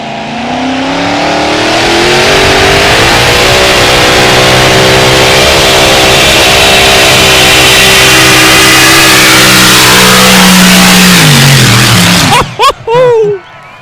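Unlimited mini rod pulling tractor at a 2023 European Championship tractor pulling event, its engine roaring loud and sustained through a full pull for about twelve seconds, pitch shifting as it goes, then cutting off abruptly.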